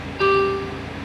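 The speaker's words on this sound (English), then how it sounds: "Here you go, ETC machine." Japanese ETC toll card reader inside a car, a single clear electronic beep tone about a third of a second long, close and loud over low cabin hum.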